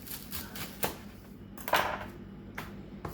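A knife cuts through the ends of asparagus spears on a cutting board, giving faint, sparse chops and taps in a quiet kitchen.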